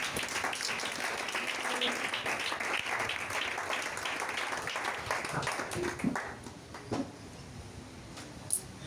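A church congregation claps and cheers in praise of Jesus, loud sustained applause that thins out and trails off into a few scattered claps and murmurs near the end.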